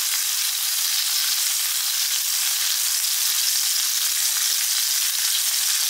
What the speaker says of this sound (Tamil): சின்ன வெங்காயம் ஒரு 50 கிராம் இருக்கும், நான் போட்டிருக்கேன். கொஞ்சம் நல்லா வதங்கட்டும்.